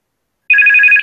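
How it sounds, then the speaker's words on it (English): Mobile phone ringing: a loud, close electronic warble of rapid pulsing tones that starts abruptly after a moment of silence and runs alone for about half a second. "That's my phone going off."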